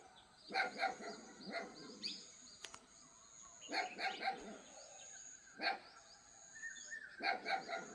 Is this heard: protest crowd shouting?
no